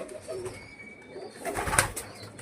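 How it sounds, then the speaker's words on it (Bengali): About ten pigeons coo softly in short low murmurs, with a brief louder flutter near the end, close by against a quiet background. "এই যে ভাই 10খানা পায়রা আছে"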